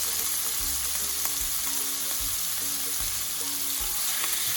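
Bitter gourd sautéing in a pan gives off a dense, constant sizzle, close and steady, with a few low thumps and scraping strokes from stirring mixed in and no voices.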